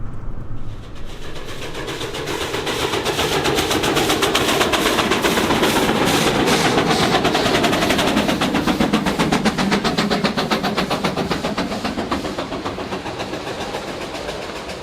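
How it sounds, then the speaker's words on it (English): Durango Silverton steam train in the Rockies passing close by: loud, steady chuffing and rapid rhythmic clatter that builds over a couple of seconds, holds strong, then eases slightly as the engines roll on. "I just happened to be driving by when the steam engines were going by"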